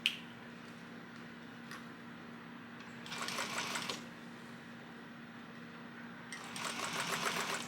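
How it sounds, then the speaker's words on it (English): A sewing machine top stitches a pressed fabric seam at an eighth-inch seam allowance, running in two short bursts of rapid stitching over a steady low hum, with quiet pauses between. "And now we're going to top stitch."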